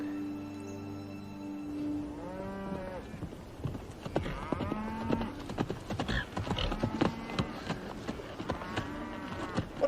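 A cattle herd in Johnson County, Wyoming, is driven across open grassland with riders on horseback. Steady hoof clip-clops mix with repeated lowing moos and an occasional whinny, spread close and far across a busy herd.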